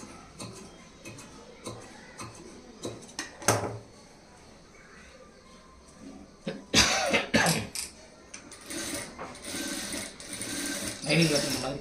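Sewing machine stitching folded blouse fabric onto canvas, for a high neck blouse, running in short bursts of whirring with pauses and handling clicks, close by and moderately loud.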